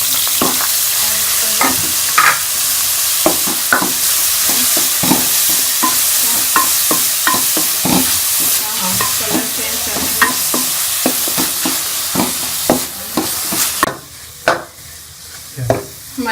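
Onions frying in ghee with whole garam masala for a white beef karahi: a loud, steady close sizzle with frequent scraping stir clicks from a spoon in the pan throughout, easing briefly near the end.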